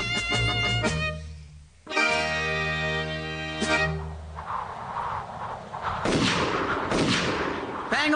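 Several gunshots at a comedy fitness club shooting session, sharp bursts mixed with tonal effects and rumbling noise, with voices nearby.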